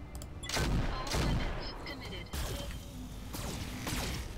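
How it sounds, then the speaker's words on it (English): Gunfire in the video game Roguepoint: several heavy shots and bursts follow one another with whooshing impacts, loud and layered over game ambience. "we're going to fire on this guy's leg as well"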